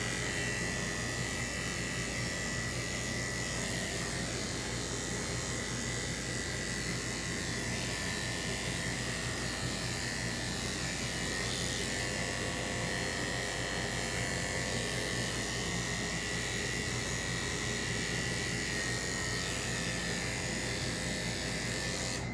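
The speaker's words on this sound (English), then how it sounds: "I'm going to shave just these hairs right around his bum" Electric clippers shave hair around a dog's rear and underneath, going against the hair, with a steady, close buzzing drone that runs unbroken throughout and no talking.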